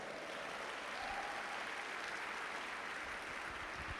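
A church congregation applauds during a sermon, a continuous, dense roar of many hands clapping at steady volume for four seconds, filling the room without any speech.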